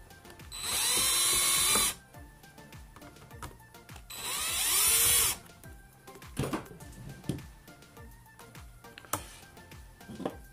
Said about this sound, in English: So I have taken out all the screws